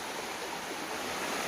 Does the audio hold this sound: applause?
no